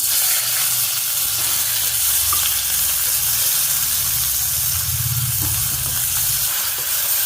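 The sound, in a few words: onions and green chilies frying in ghee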